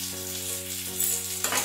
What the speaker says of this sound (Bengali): ফুলকপিটা ভাজার সময় একটু সামান্য নুন হলুদ দিয়ে দিলাম,